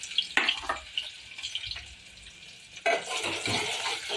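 Green chillies hit a ghee tempering in a pan and crackle with sputtering pops that fade, then a louder, steadier sizzle bursts up near the three-second mark and carries on close by.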